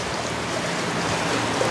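Water poured over stones in a funnel, a steady rushing, splashing flow like a small stream, continuous and fairly loud with no voices.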